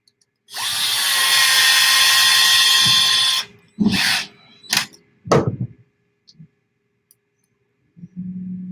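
A small 8-volt electric driver runs in a loud, steady whir for about three seconds, then gives several short bursts with brief pauses, used on an Axial Raw Builders Kit RC build.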